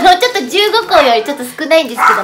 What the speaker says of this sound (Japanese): 犬がうるさくてね。